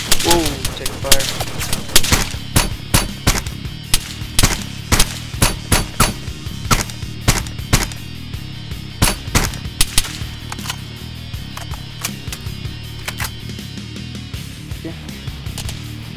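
Rapid gunfire crackles in repeated sharp bursts during an outdoor tactical game, loud and close, with people calling to each other between the shots.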